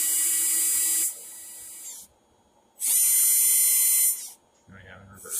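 An RC4WD 35T boost motor in a Hobao DC-1 RC car spins up with a high, whining buzz in two sustained bursts separated by a gap, followed by a lower hum as a voice speaks nearby.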